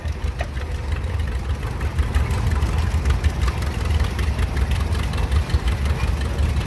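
A 1940 John Deere Model BR antique tractor passes in a parade, its engine putting out a steady low rumbling chug at moderate volume throughout.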